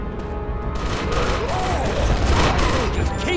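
Rapid bursts of video game gunfire crackle and boom densely over a short stretch, loud and continuous with overlapping shots.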